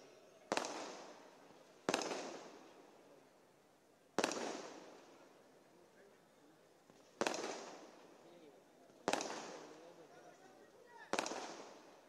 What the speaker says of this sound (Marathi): कृपया फटाके ताबडतोब थांबवा